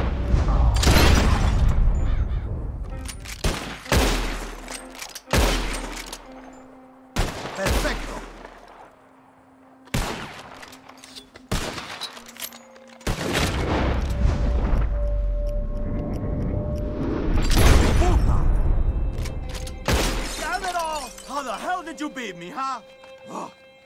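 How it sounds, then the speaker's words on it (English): Gunshots in Red Dead Redemption 2 during a contest to shoot bottles. Sharp, loud shots come one by one at uneven intervals, with pauses and short clusters between them, and people talk throughout. "Whoever shoots more of these bottles wins. Just draw your gun and aim when you're ready"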